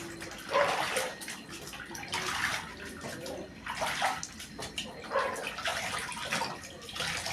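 Water running steadily into a basin and pooling, a continuous splashing rush with surges every second or so, close and moderately loud, no talk.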